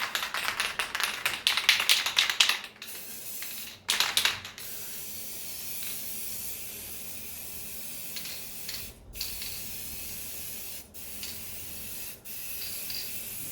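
An aerosol spray paint can hisses in bursts, two louder sprays near the start, then quieter short sputters and taps over a low background hiss, close by and without talk.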